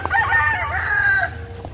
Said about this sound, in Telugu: అందుకే అట్లా కోళ్ళ శబ్దాలు మేకల శబ్దాలు వస్తాయి